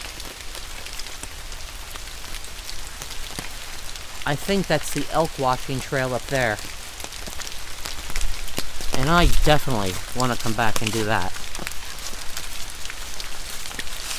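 Steady rain patters on surfaces along a trail at a nature preserve, a constant soft hiss throughout, while someone talks over it in the middle of the stretch.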